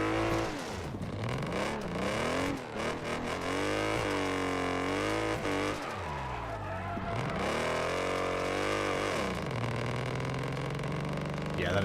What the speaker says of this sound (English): that exhaust sounds god-awful